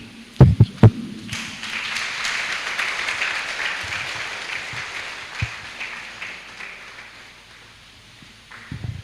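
Applause at a business conference in Ghana follows a few heavy thumps, then swells into steady clapping from the audience, holds for several seconds and thins out near the end.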